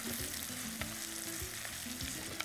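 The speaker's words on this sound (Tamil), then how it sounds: "வெங்காயம் போட்டு நல்லா வதக்கணும்" Onions sautéing in oil with dried red chillies, a soft continuous frying crackle with a few stirring scrapes and knocks of a spoon in the pan, close up and without speech.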